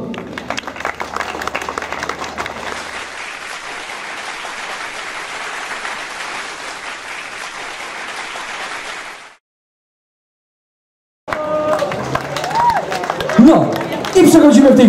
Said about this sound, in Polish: Wielkie brawa dla całej ekipy MDK-u Mikołowskiego.